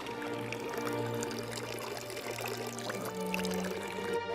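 Water from a Carlo Scarpa–designed drinking fountain in Verona pours and trickles steadily throughout, close by, over a faint low hum and no voices.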